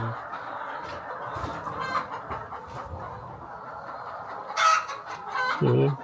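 Laying hens on a poultry farm near Yaoundé, where the hens have stopped laying, cluck steadily in a dense flock chorus, with a louder nearby squawk and burst of clucking near the end.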